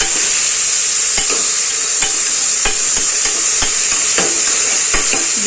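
Tomatoes, beans and carrots stir-fry loudly in a pan with a constant bright sizzle, while a utensil scrapes and taps the metal at irregular moments throughout.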